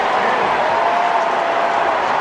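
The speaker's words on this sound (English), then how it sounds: "that gets the crowd back into it" A football stadium crowd cheers and applauds after a completed pass to Ja'Marr Chase, a dense, loud, sustained roar with no breaks.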